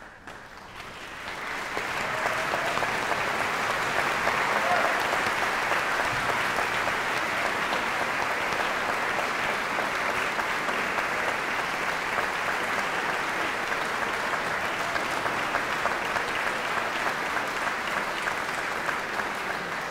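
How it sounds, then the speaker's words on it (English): Audience in a concert hall applauding graduating students at a Peabody Conservatory commencement; sustained, dense clapping begins after a moment of quiet and stays steady and loud throughout, with no talking. "so that we might applaud them for their accomplishments"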